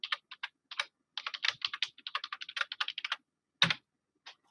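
Quick, light tapping on a computer keyboard as a Ctrl-F search is entered, bursts of close clicks with short pauses and one louder key press near the end, no voices.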